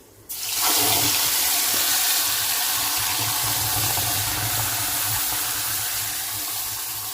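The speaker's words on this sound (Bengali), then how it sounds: "এই সময় আমি যে পটলটা বেটে রেখেছিলাম সেটা দিয়ে দিচ্ছি।" Ground pointed gourd (parwal) paste goes into hot oil with fried garlic and dried chili, giving a sudden loud, steady hiss and sizzle that starts abruptly and holds strong to the end.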